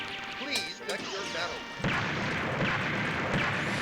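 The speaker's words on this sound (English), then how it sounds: "Oh, those are such good explosion sounds." Booming explosion effects from the Street Fighter fighting game burst out in quick succession, heavy crashing blasts layered over tonal game sounds and chiming effects, loud and dense throughout.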